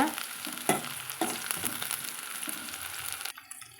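Onions sauté in a pan for green gram curry with a soft, steady frying hiss and scattered spatula scrapes, stopping near the end with no voices.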